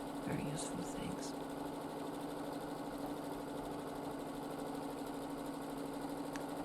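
Sewing machine running steadily through free motion quilting, a continuous close mechanical hum with rapid needle rhythm, with a voice briefly heard early on.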